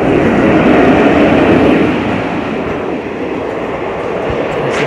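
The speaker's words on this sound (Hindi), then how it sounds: "ट्रेन आ रही है ये देखिए।" Kosi Superfast Express passenger train arriving, a loud continuous rumble of wheels on rails with a broad roaring wash close by, easing slightly over a few seconds, with no one talking.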